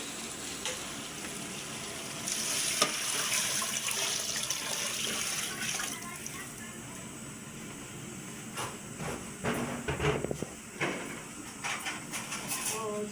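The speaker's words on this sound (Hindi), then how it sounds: "और अब डालने लगी हूँ जी मैं पानी।" Water pours steadily into a pot of browned meat with a splashing, rushing sound, mixed with some sizzling and clatter throughout.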